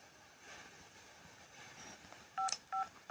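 Touch-tone telephone keypad being dialed to call someone back, a few distinct DTMF beeps near the end over a quiet room background.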